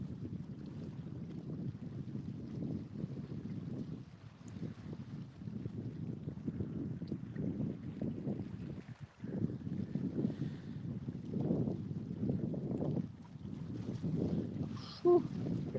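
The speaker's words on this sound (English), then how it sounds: "Here comes that wind again." Strong wind gusts roar steadily across an open lake around a kayak during cold-weather catfishing, a dense low rumble with buffeting on the microphone, rising and falling in waves throughout with no talking.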